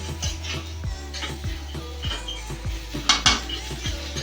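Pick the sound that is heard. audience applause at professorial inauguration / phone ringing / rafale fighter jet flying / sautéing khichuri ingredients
sautéing khichuri ingredients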